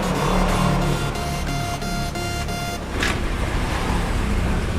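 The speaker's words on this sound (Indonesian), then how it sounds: "Coba Soleh dihidupin lagi mesinnya" A carbureted Honda Vario motorcycle with an idling fault runs after being restarted, a loud steady engine drone close by with a sharp click partway through.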